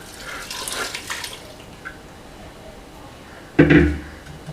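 Water is poured from a pan into a cooking pot for Kerala duck pepper roast, a short splashing gush rising near the end after a faint watery trickle, close and fairly loud.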